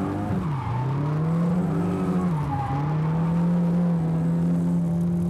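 A drift car sliding through the second corner toward the S-bend at a Japanese circuit, the handbrake pulled, tires squealing in a long continuous skid over a steady droning engine note, loud and close throughout.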